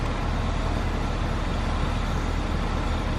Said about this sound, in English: There's the noise.